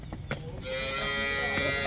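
A dairy cow on a farm where cows are being sold lets out one long, low, drawn-out moo close by after a moment of faint background noise.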